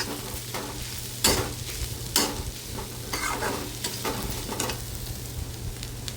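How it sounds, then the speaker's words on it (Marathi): A spatula stirs dried Bombay duck (bombil) chutney with fried onions in a pan. Several loud scraping strokes come at irregular intervals over a steady low sizzle, close up, with no voices. "हे सगळं आपल्याला एकजीव करून घ्यायचं आहे व्यवस्थित मिक्स करून घ्यायचं आहे"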